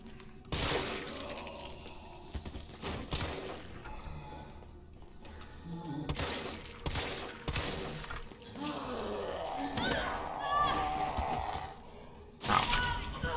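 Shotgun blasts in the Resident Evil 3 Remake video game, several sharp booming shots spaced irregularly among crunching impacts and creature noises, with a voice grunting at times.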